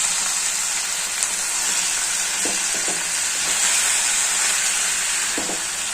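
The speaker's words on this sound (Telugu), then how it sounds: "కలుపుతూ ఉండాలి. బాగా ఆయిల్లో బాగా మగ్గిపోవాలి" Sliced bitter gourd sizzles steadily in hot oil, with a constant bright frying hiss and a few soft scraping stirs from a spatula partway through.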